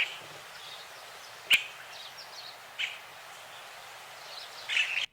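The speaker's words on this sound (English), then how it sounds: "But there's a reunion bulbul from Mauritius." Reunion bulbul from Mauritius, a recorded song played back as a few short, faint chirps spaced across a quiet, hissy background, with a brief click partway through.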